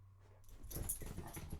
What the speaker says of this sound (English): He was barking at the Wicked Witch of the West.